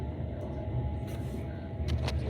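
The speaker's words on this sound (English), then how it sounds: "Here's the proper run sound of this train." Passenger train running near Paisley, heard from inside as a quiet continuous low rumble with a few brief rattling clicks and knocks over it, no voices.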